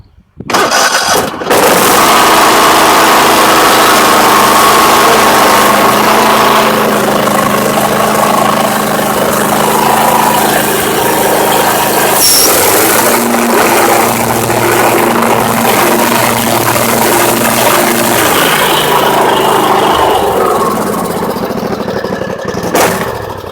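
A Husqvarna LGT2554 riding mower engine cranks, catches and settles into a loud, steady idle close by, with slight shifts in pitch as it runs on alone.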